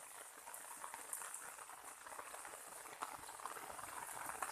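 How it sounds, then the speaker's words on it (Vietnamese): Heavy rain pours steadily, and water fills a drainage ditch beside a pumped-out pond, making a dense, continuous splashing hiss at close range with a few sharper drips and no voices. "Ôi, mưa to lắm các bạn ạ, này. Mưa đầy hết nước rồi."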